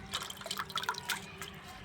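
Fresh coriander leaves washed by hand in water, giving soft close splashes and irregular drips and trickles over a faint steady background.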